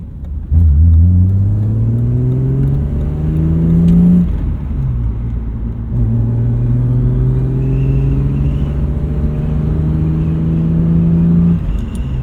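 A BMW E36 M3 test car engine growls loudly from inside the cabin as it accelerates through the gears, pitch climbing in long rising sweeps with a brief dip at each shift.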